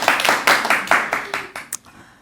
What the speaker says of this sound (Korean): 여기서 박수 한번 주셔야 돼요.